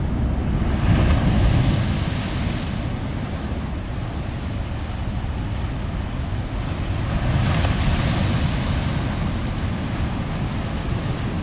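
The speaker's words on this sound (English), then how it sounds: "some quite sizable waves coming in, and where we're standing, we've already seen some big ones crash on the rocks right in front of us" Sizable sea waves at Portixol roll in and crash on rocks just ahead, a constant loud surge with two swelling peaks, blended with wind rumble on the microphone.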